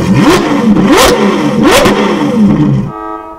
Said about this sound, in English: You've got the sound attack from the 812 GTS